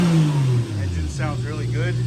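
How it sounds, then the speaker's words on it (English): A Toyota Soarer engine idles and revs after misfire repairs, a steady low rumble with small rises in pitch; a person speaks briefly over it partway through. "Engine sounds really good."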